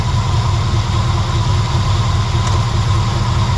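A small-block car engine idles steadily just after a carburetor swap, a loud, close, even low rumble with a constant mechanical hum and no talking.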